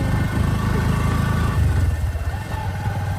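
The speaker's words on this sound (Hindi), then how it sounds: "बाइक के ऊपर बैठ चल पड़े हैं हम बाइक पे।" A motorcycle rides along a village track toward a farm field, its engine droning steadily and loudly from close by throughout, with no talk over it.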